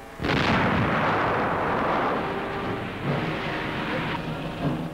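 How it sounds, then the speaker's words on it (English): Ammunition inside a burning tank blows up in flames during a World War II Pacific battle, a loud sustained roaring blast rumbling on for several seconds, heard on an old 1945 newsreel soundtrack. "But the flames reach the tank's ammunition."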